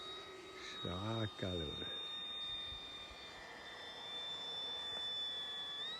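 Low pass of a Mustang propeller airplane at an airfield, a steady engine drone with a slight pitch shift near the end, heard under a man's short excited remark.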